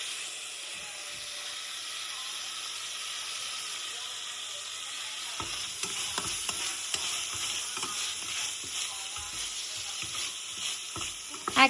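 Tomato pieces frying in a pan with ginger garlic paste, a steady sizzle and hiss throughout with stirring scrapes and clicks picking up in the second half, close and moderately loud.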